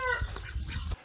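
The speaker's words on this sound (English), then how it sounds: "So I'm sure we're all aware what a rooster's crow sounds like coming" A mature rooster crows close by in a short harmonic call, with clucking and a rustle of wings from farm fowl in a coop setting.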